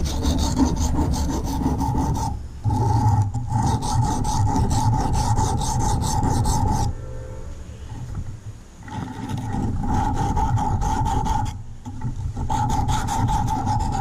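Steel putty knife scraped back and forth on a sharpening stone at a steep angle, a loud continuous rasping grind in long strokes with brief pauses between passes, close up with no talking.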